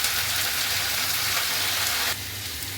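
Broad beans and soaked moong dal sizzling in hot oil with mustard seeds in a pan, a steady, close, hissing fry that drops slightly softer near the end, with no talk.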